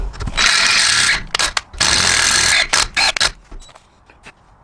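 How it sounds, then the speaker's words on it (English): Loud bursts of drilling out a diesel Jeep turbo feed line fitting to 21/64 inch, starting and stopping several times with a whirring, grinding tone, then fading to quiet handling noises. "Alright, going to be drilling this out to 21/64."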